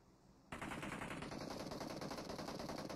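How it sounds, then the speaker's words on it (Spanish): After a brief quiet moment, rapid sustained automatic gunfire from the video game PUBG Mobile erupts and continues loudly, a dense unbroken rattle of shots. "Más disparos siguen por acá"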